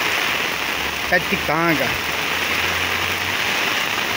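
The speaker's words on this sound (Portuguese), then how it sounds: "Chuva forte." Heavy rain pours steadily over a fruit-tree yard in Passira, Pernambuco, a dense, continuous hiss from start to finish, while someone briefly speaks close by over it.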